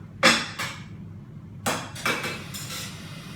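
Plates are fetched and handled beside a wood-fired oven, with several sharp ceramic clinks and knocks in two quick clusters, close and moderately loud against a quiet background.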